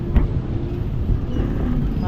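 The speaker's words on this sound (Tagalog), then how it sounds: "Motor lang yun." A motor engine runs steadily and close by in a hot outdoor setting, a constant low rumble with people talking over it.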